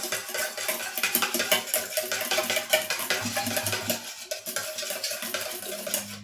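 A whisk stirring homemade shampoo and conditioner in a bowl, making rapid continuous scraping and light clinking against the container, close up with no speech.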